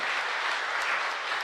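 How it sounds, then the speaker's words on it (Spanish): A church congregation at a parish in Asunción applauds steadily. The clapping is full and continuous with no voices over it. "Fuerte aplauso entonces para el Señor."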